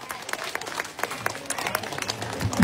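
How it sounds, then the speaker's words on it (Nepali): A crowd applauds with a quick run of claps in brisk, irregular bursts that stay moderately loud and swell near the end. "ताली बजाइदिनु होला"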